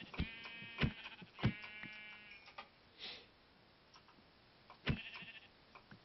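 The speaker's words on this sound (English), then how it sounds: "Get back here, sheep." Minecraft sheep give several bleats in the video game, with short, sharp cries spaced out across the stretch, loud and close against a quiet background and no talk.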